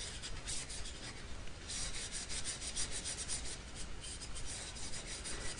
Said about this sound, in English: They'll take a patch and they'll wipe down the receiver.